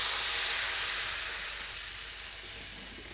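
Crepe batter ladled into a hot, oiled steel pan, giving a loud, steady sizzle of frying right from the start that slowly eases off over a few seconds.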